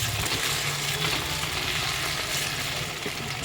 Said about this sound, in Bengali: তো এই ফুলকপির পকোড়াগুলো ভেজে এখন খেতে দেবো